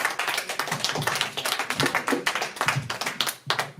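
Audience applause at a slam poetry evening in a youth and culture centre hall: dense, near clapping from a crowd, sustained with uneven bursts and no talking.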